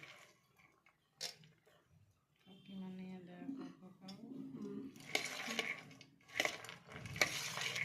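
Chickpeas, peas and finely chopped onion are stirred together in a bowl for jhal muri, with scraping and clinking of a spoon against the dish in bursts that grow louder toward the end.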